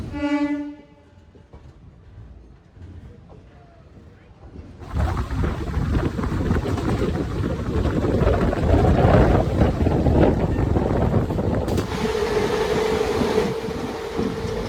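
Steady rushing wind and rumble on a moving train near Bardhaman junction, loud and continuous, opening with a long train horn blast before the roar of air and wheels builds up and holds.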